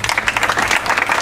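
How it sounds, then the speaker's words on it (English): Dense applause from an audience at a library opening, many hands clapping steadily and fairly loud throughout with no talking. "please, a round of applause to Councillor Altair"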